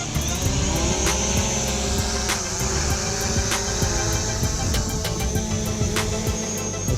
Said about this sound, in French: maintenant on a le drone de pêche. Je fais décoller